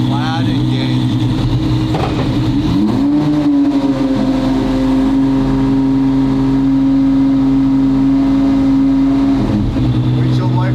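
A 1,300 wheel horsepower car in Plaid mode accelerates at full power, a rising electric whine climbing and then holding a high steady tone for several seconds before easing off, loud and close inside the cabin.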